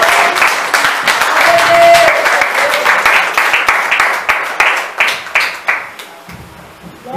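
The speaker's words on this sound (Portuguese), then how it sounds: "Igreja, bate mais palmas para a igreja." Loud, dense applause from a church congregation, sustained clapping that thins into separate claps near the end.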